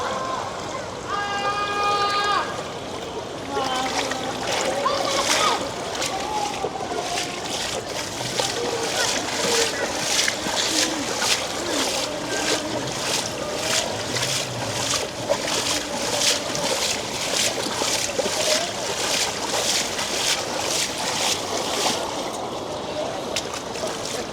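A boat is paddled through floodwater on España Boulevard in Manila, with repeated sloshing and splashing strokes and trickling water close by, while people talk throughout.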